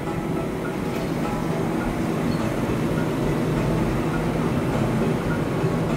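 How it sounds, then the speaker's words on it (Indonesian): Passenger train arriving at a station in Indonesia, a steady loud rumble of rolling wheels and machinery holding constant without clear slowing, continuous broadband noise close by. "tunggu keretanya berhenti dulu"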